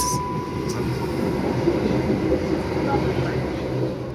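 A Southeastern Class 707 electric train runs along the line, giving a steady, close rumbling drone that holds even for the whole stretch, with a faint tone and brief higher squeak near the start.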